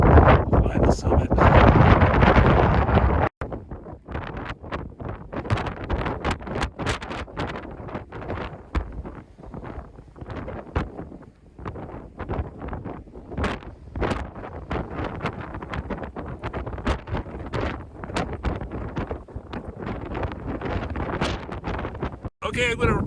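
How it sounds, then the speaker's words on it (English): Strong wind buffets the microphone on the summit of Kings Peak, Utah, a loud roaring rush at first that turns into gusty, uneven blasts. A voice talks through much of it. "at the top of Kings Peak, the wind is like crazy"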